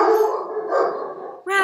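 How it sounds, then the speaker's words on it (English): A dog barks and howls close by in a home setting, one drawn-out, yowling bark followed by the start of another, loud and near. "Rex, please stop barking."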